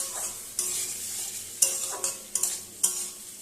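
Spice masala being stir-fried in a pan for a katla fish curry, an ongoing sizzle punctuated by five or six brisk spatula scrapes in an uneven rhythm, close and clear, with no speech.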